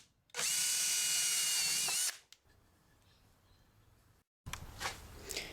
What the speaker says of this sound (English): get a drill bit, and you want that drill bit to be just a bit bigger than your cord that you're going to use, and drill a hole straight through there